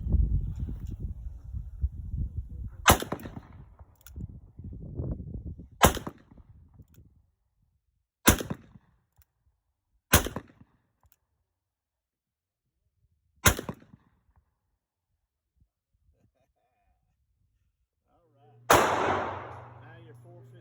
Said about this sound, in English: I'm going to do 2 rounds with 454 Castle, and then 3 rounds full load 460.